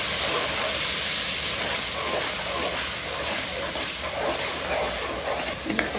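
Water and ginger-garlic paste hit a hot pan while a rohu fish curry with taro is being cooked. The result is a loud, steady broadband sizzle and hiss that lasts throughout, with no talking.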